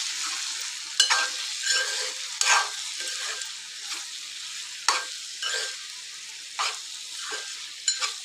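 Broad beans curry, chikkudukaya, half-cooked in oil in a pan, sizzles softly while a spoon stirs and scrapes it in intermittent bursts, close up.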